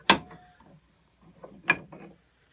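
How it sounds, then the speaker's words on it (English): A bench vise clamping down to press a bearing into a John Deere 111 mower deck pulley, giving a sharp metallic clack followed by scraping, then a second softer knock with rattling, close and fairly loud. "the vise stops just right, bottoms that out on the bottom"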